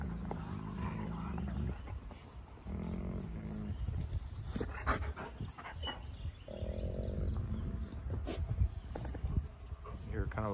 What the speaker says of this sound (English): Kind of a light growl there.